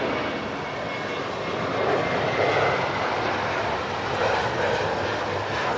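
A fixed-wing airliner takes off at Manchester Airport, its engines giving a loud, sustained broadband roar that swells slightly mid-way and holds steady, with no voices over it.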